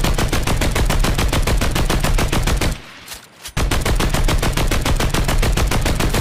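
The LMG machine gun in Fortnite fires loud, rapid sustained bursts of gunfire, with a short pause near the middle before the firing resumes just as fast.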